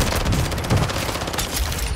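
Slug shotgun fire in Call of Duty Warzone, set inside a dense, continuous stretch of game gunfire with rapid bursts and heavy low thumps, loud throughout the two seconds.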